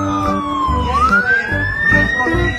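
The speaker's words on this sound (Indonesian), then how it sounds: "Yang ini ada mobil pemadam kebakaran teman-teman." A toy fire truck's electronic siren gives a loud, close wailing tone that dips and rises again, over a pulsing low honking beat from the toy's speaker.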